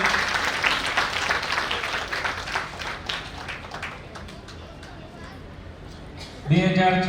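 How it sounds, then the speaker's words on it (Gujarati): Audience applause at a community gathering in Rajkot, Gujarat honoring Kamalbhai with a shawl and memento, a steady patter of clapping that slowly fades, followed by a voice on a loudspeaker. "જોરદાર તાળીઓથી આપણે વધાવીએ."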